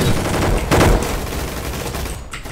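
Gunfire in the Roblox game Gunfight Arena, a dense, continuous loud burst of rapid shots with a sharper volley near the start, steady throughout with no talk.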